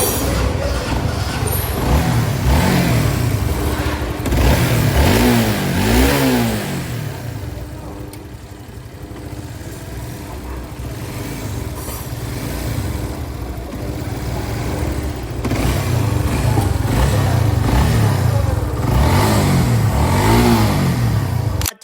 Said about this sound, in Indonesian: di sini kita gas ya guys ya untuk mengecek bukaan gasnya